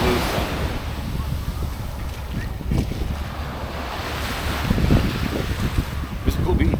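Surf washes steadily onto Mullet Bay beach on St. Maarten, a continuous rushing wash with swells of louder breaking, heavily mixed with buffeting wind noise on the microphone.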